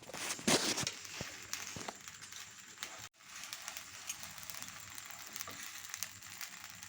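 Whole spices for garam masala dry-roasting in a pan, a soft continuous sizzle and crackle with a few brief clatters of stirring, steady and close with no talking.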